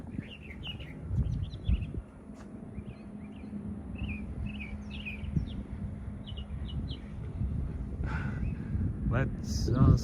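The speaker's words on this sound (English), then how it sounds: "Can we just talk about these birds?" Small birds chirp and tweet in short scattered calls over outdoor crowd murmur and footsteps along a walkway at Disney World, with voices talking throughout.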